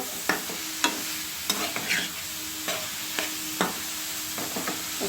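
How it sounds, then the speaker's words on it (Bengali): Carrots fry in a pan while being stirred, giving a series of sharp scraping clicks and clatters of the utensil at an uneven rhythm over a faint sizzle. The sound is close and there is no talk. "গাজরটা ভাজা হচ্ছে"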